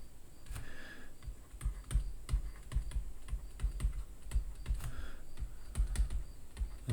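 Fingers type steadily on a computer keyboard, a close, continuous patter of light key clicks with occasional louder strokes and no talking.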